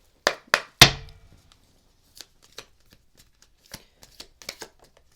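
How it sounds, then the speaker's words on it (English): Tarot cards are shuffled and tossed down, giving three sharp slapping riffles near the start, then scattered light taps and flicks as the cards land, close and fairly clear with no talk. "as I throw these cards around"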